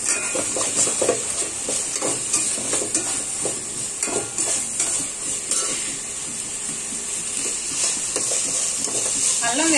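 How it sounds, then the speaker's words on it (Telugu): Ginger garlic paste being stirred and fried in a pan for a cauliflower veg biryani, with a steady close sizzle and repeated scraping strokes of a spoon running throughout. "అల్లం వెల్లుల్లి పేస్ట్ వేసి తిప్పుకుంటూ ఉండాలి"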